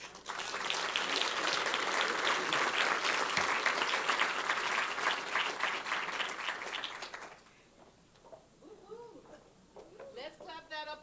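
An audience at a school district State of the District event claps loudly and continuously for about seven seconds, then the applause cuts off and gives way to a quieter room with scattered voices and speech.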